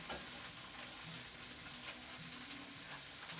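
Diced onions for king prawn Singapore fried rice fry in a hot pan, giving a continuous close crackling sizzle that stays even throughout, with no voices.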